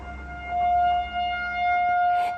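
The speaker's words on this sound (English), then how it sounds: "So we're gonna hear sirens in the background." A statewide tornado drill warning siren wails outdoors from a distance, holding a long tone that rises and fades slightly, with no voices.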